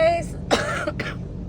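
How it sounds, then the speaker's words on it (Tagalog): A woman out in the morning coughs, a quick throat-clearing burst and then a couple of short harsh coughs, close and clear. "Hindi pa pala nawawala yung ubo ko, sorry."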